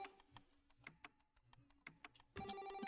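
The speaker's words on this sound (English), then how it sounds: "the phone's ringing" A telephone rings during a relaxed gaming session, sounding as repeated electronic ring bursts that turn into a steady, louder tone near the end. No one talks over it.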